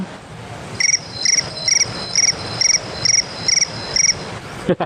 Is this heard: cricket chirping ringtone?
yes